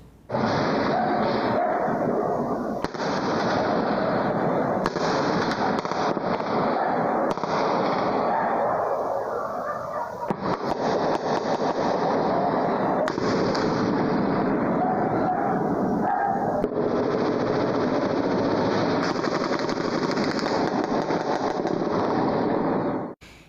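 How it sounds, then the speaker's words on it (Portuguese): Continuous loud crackling bursts of rapid shots and pops, sustained throughout with brief dips, sounding like heavy gunfire echoing nearby, during the night on Morro da Piedade hillside neighborhood in Vitória, Brazil. "Foram muitos tiros realmente."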